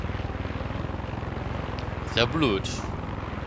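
Helicopter flight in the video game Far Cry 6, a steady rapid rotor chop and engine drone running continuously at moderate loudness, with someone speaking briefly over it near the middle.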